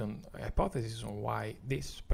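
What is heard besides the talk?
No distinct noise like a dog, phone or traffic.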